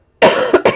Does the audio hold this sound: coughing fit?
yes